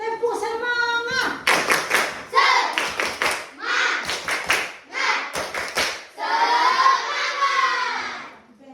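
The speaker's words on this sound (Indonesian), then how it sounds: "Coba tepuk semangat." A school class performs a rhythmic spirit clap, several sharp patterned bursts of group clapping in quick sequences, close and loud, mixed with children chanting along.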